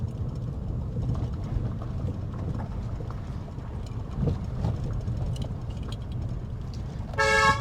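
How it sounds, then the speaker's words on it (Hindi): Steady traffic rumble and road noise, ending in a short, loud car horn honk near the end. "हॉर्न,"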